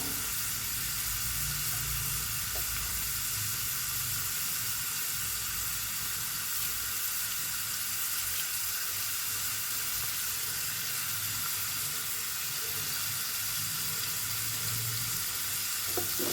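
Curry leaves sizzling in hot oil for a Kerala fish molee, a continuous close crackling fry with steady hiss and no talking over it.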